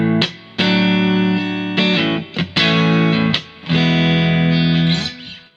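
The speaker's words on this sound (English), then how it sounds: "Here is the sound of my guitar into those amps, no pedals." Electric guitar on its neck pickup played straight into Jet, Fender Blues Junior and Vox AC10 amps with no pedals: a run of sustained, lightly driven chords with short gaps between strums, close and loud with room ambience.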